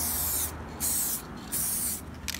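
An aerosol spray can hisses steadily while painting a model tank, loud and close, in three sustained bursts with brief gaps and a faint final spurt.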